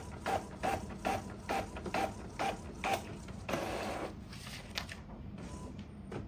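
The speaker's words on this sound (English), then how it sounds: "This allows the printer to automatically pump ink from the external system into the internal ink" An Epson L3150 inkjet printer whirs and ratchets through a printhead cleaning cycle, with a run of evenly spaced mechanical clicks and gear noise followed by a steadier motor hum, close and fairly loud with no talk.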